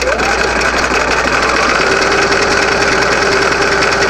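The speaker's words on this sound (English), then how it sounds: "I'm stitching this 1/2 inch from the hem edge." A sewing machine stitches a baby rolled hem on orange cotton fabric, half an inch from the edge. The motor hums loud and continuous at close range, with its rapid needle chatter running unbroken and no voices.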